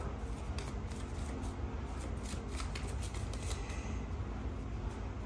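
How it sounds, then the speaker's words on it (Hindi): Tarot cards are shuffled close up in a continuous soft riffling flutter with repeated card strikes, quiet and alone without speech. "I need one card actually, so I will shuffle more."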